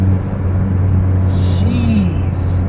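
A car engine with new bolt-on modifications drones loud and steady from inside the cabin, a deep constant rumble with a brief rising tone partway through.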